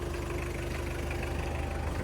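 A Toyota Qualis car engine idles steadily up close after a 2000 km service, a continuous low rumble with an even throb and no voices.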